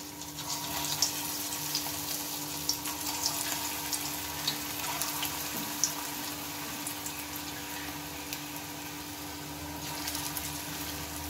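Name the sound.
spiny gourd pakora batter frying in hot oil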